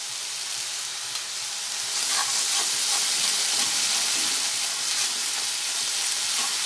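Ginger and garlic paste fries in a hot pan, giving a loud, steady sizzle that swells after the first couple of seconds and holds without any voices.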